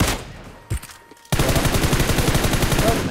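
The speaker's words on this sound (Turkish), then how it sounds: "Tam aradan vuruyorum bak" Rapid automatic gunfire from shooting in the PUBG Mobile video game, a long loud burst of evenly spaced shots filling most of the clip after a few brief isolated cracks near the start.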